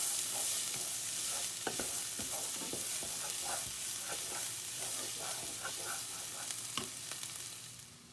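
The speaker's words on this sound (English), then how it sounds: "And then just stir it around." Jarred pasta sauce stirred with the back of a spoon in a hot pan, a steady frying sizzle with repeated soft scraping strokes over about eight seconds, close and alone with no talk.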